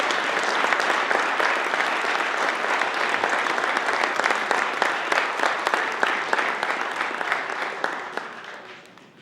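Audience applause for honorees at a city's State of the City event: a dense, steady round of clapping from a large crowd, loud and sustained for about nine seconds before tapering off near the end.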